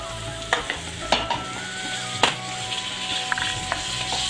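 Tinned mackerel and hand-pounded spices are stirred in a frying pan, a low sizzle running under a few distinct spoon scrapes and knocks against the metal, close and moderately loud, with no voices.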